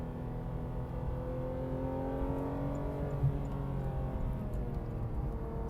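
A Porsche 991.2 GT3 RS revs toward 9,000 RPM on a first lap of the Nürburgring with cold tyres, heard from onboard as a steady, high, whining engine howl whose pitch climbs and shifts through the run.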